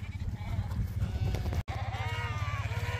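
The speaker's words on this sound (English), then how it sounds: "These ewes, all these ewes down here have been done already, so we don't want them mixing" Ewes bleat repeatedly and loudly close by on a hill farm, their wavering calls overlapping across a steady outdoor background, with a brief break partway through.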